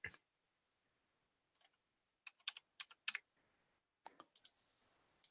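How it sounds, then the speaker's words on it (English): Fingers type on a computer keyboard in quick irregular clusters of soft clicks separated by short pauses, close and quiet with no one speaking. "while you're typing that up"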